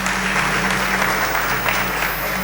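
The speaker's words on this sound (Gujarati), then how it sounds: "અને જોરદાર તાળી વધાવો." Audience applause at a Gujarati health and lifestyle talk, steady dense clapping sustained throughout at a close, loud level with no voices over it.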